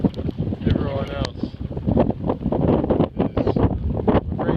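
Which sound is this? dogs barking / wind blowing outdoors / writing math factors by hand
wind blowing outdoors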